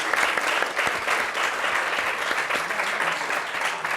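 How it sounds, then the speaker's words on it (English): A lecture audience applauding steadily, dense clapping that holds at an even level from start to finish. "Give them a round of applause,"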